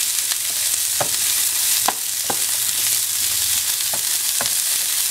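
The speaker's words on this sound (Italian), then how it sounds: "dopo aver rosolato bene le verdurine, aggiungo le uova" Eggs frying in a pan with well-browned broccoli and asparagus for a frittata, a steady close sizzle with occasional sharp clicks and pops as the mixture is stirred.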